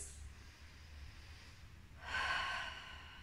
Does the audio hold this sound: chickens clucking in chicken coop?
no